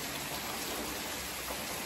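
Steady rain falls outside a village home, a dense, even hiss of drops with no break, fairly close and alone.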